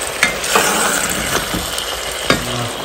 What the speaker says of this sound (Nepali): यसलाई केही समयमा मजाले फ्राई गर्दैछु